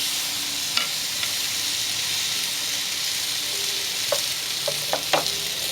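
Australian wagyu sirloin steaks sizzle steadily on a lava grill, a dense continuous hiss with a few small pops and crackles, close and even throughout.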